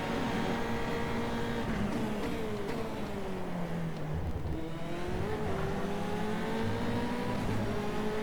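F3 race car engines in the Automobilista sim at Circuit Gilles Villeneuve drone steadily as a pack of six cars runs down the main straight, several overlapping engine tones rising and falling in pitch, continuous and fairly loud.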